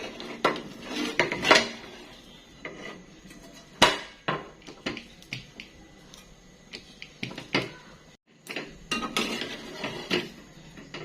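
Slices of toasted bread with cheese are flipped in a Teflon pan, producing a series of sharp metallic clinks and scrapes of utensil on pan in irregular bursts, with quieter gaps between.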